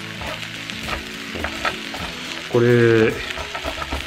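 Peyoung yakisoba fries on a well-worn, already scorched hot plate in a Maruka Foods yakisoba maker, giving a steady close sizzle with light stirring scrapes, a brief tonal whine partway through, and a single short spoken word.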